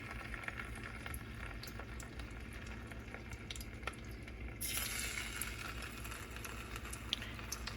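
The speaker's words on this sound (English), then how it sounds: "We're going to drop them into some hot oil." Battered potato wedges fry in hot oil, with a steady low bubbling hiss that grows brighter and denser about halfway through, faint and without speech.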